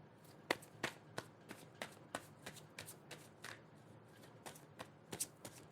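Tarot cards are shuffled close by in a quick run of crisp riffling bursts, about a dozen sharp flicks spaced roughly evenly, quiet and with no voices.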